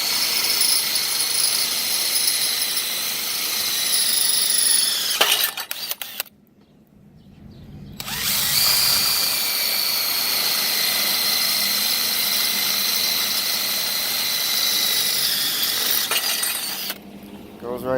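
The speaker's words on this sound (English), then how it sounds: "you still have an area to drill completely through the caster" A power drill with a 3/8 bit whines loudly and steadily as it bores through a produce cart caster, briefly stopping before starting up again and running on for a long stretch.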